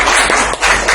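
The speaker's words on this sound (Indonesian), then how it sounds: "Ya, tepuk tangan untuk kelompok" Applause for a student group in a classroom, a short burst of many hands clapping together in dense, continuous patter.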